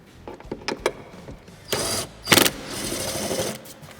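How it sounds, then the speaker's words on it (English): A 10mm bolt comes off the air intake of a Ford F-150, with scattered ticks and clicks of a ratchet, then bursts of a whirring power tool spinning, close and fairly loud. "We need to remove this 10mm bolt right here."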